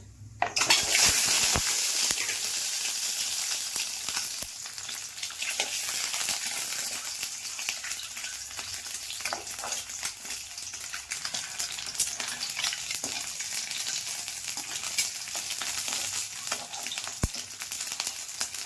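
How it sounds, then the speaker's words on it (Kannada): Eggs roast in oil in a pan with a close, continuous crackling sizzle, a loud burst at the start and scattered spatula clinks against the metal throughout. "ಬ್ರೌನ್ ಕಲರ್ ಬರೋವರೆಗೂ ರೋಸ್ಟ್ ಮಾಡ್ಕೊತಾ ಇರಬೇಕು."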